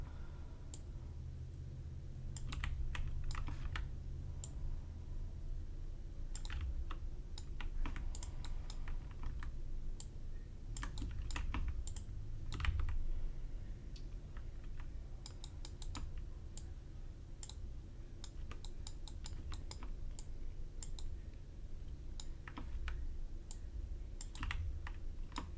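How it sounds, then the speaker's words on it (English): Computer keyboard typing during a live game-development stream: steady bursts of fast clicking keystrokes, close up and fairly quiet, over a low constant hum. "those keyboard noises. Yeah, keyboard ASMR is always a bonus in my streams"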